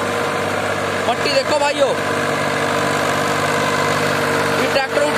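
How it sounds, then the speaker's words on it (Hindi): A Mahindra 265 DI tractor engine runs close by with a steady, even drone throughout, while someone talks over it. "कितनी शानदार आवाज है ट्रैक्टर की।"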